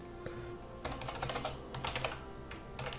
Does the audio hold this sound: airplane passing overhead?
no